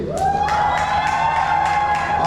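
Crowd of students cheering and shouting at a World Water Day event, loud and sustained, with high-pitched whoops and a steady tone running beneath.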